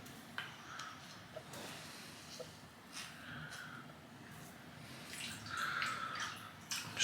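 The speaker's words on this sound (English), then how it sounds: "I'm going to give the soap a little rinse out." Water splashing and trickling as shaving soap is rinsed in its tub, soft intermittent drips and swishes close by, faint and uneven.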